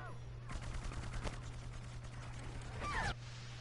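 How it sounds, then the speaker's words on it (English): Rapid bursts of automatic gunfire hammer at a shield in Plants vs Zombies Garden Warfare 2, steady volleys running for a few seconds over a constant low game hum, with a whooshing effect near the end. "Come on, shoot that shield down."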